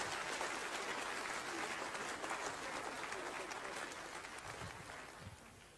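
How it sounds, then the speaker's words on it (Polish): Faint, dense audience applause fills a lecture hall, a steady wash of many hands clapping that slowly fades toward the end. "Brawa dla Sala"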